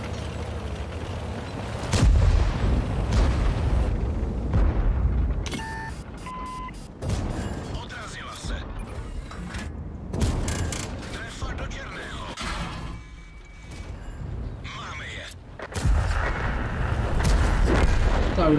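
Tank cannon fire in World of Tanks from an EMIL 1951 tank: heavy booming shots stand out from dense, loud battle noise and mechanical game sounds, with a voice talking over parts.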